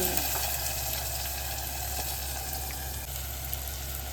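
Bottle gourd frying in a pan with cumin and ginger gives a steady, close, even sizzle throughout, with a faint clink near the start and no talking.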